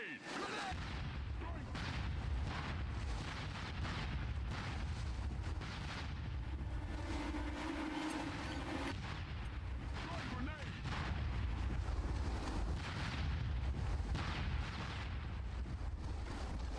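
Booming blasts and rumbling explosions from a SOCOM II online match, with grenade detonations mixed into continuous loud gunfire and battle noise throughout.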